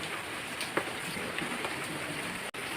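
Steady rain hisses evenly on surfaces, a constant wash of noise with a few brief louder patters.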